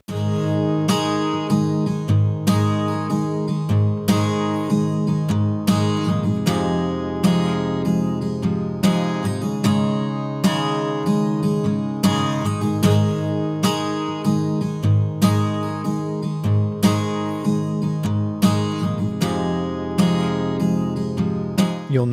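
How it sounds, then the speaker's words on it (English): Guitar in a full music mix run through a FET-style compressor (1176 type) with slow attack and fast release, steady rhythmic strums and beats evenly levelled, loud and continuous with no talking. "Take a listen to how this just controls the guitar, prevents it becoming overly dynamic when we don't need it to be."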